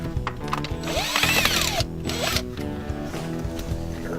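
A T30 Torx bit driving out a screw that holds the horn button on a Honda Civic: a close, whirring power-tool burst rising and falling for a few seconds, with a steady mechanical hum underneath.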